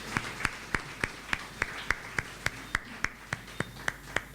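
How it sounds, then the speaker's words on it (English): Steady, evenly spaced handclaps, about three or four per second, ring out sharply and close over a quiet room at a residence launch event, without any cheering or talk. "Let's give her a round of applause."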